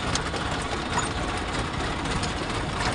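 A tractor engine runs on a rough village road, a steady loud rumbling drone that fills the whole stretch without pause and with no voices.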